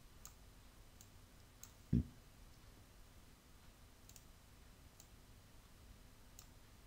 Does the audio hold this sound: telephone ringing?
no